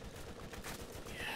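Gunfire from a shotgun in the Borderlands remastered video game: a dense burst of blasts that runs through the whole moment, fairly quiet and steady.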